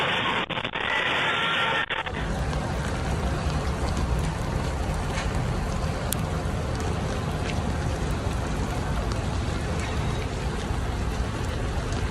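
Rain pours steadily in chilly weather, a dense, loud hiss of drops filling the scene with no let-up, after a brief different-sounding moment at the very beginning.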